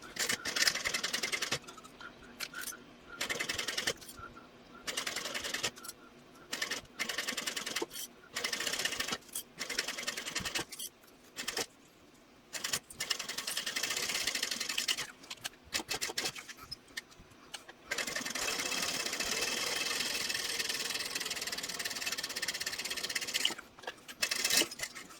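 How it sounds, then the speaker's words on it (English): A sewing machine top-stitches nylon webbing onto vinyl with an eighth-inch seam allowance, running in short bursts then a longer steady run, with brief pauses between passes and no talking. "now top stitch on both sides using a 1/8 inch seam allowance"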